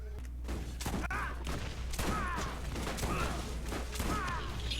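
Shotgun blasts from a Carnage shotgun boom in Borderlands, several heavy shots spaced roughly a second apart over game noise and a low constant hum.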